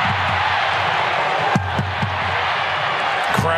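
Stadium crowd at an NRL 2023 rugby league match between Canberra Raiders and Brisbane Broncos: a dense, continuous roar of many voices, with a few sharp thuds rising above the wash.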